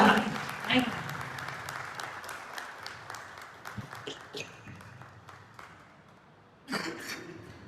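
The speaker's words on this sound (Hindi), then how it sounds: "जोरदार ताली।" Applause breaks out at a village gathering, a burst of clapping at the start that thins into scattered claps under a speaking voice, then a brief renewed flurry near the end.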